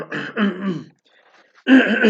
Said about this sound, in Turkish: Bir grip olduk da sürekli öksürüyoruz.